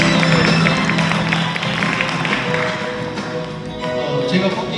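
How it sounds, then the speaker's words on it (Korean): An audience at an academic presentation event applauds steadily, a dense wash of clapping from a crowded hall, loud and sustained throughout. "박수 한번 해주세요"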